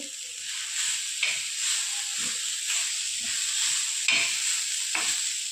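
Whole spices and sambar sticks dry-roasting in a pan for a methi kofta gravy masala give a steady hiss with repeated scraping strokes of a spatula, close and alone.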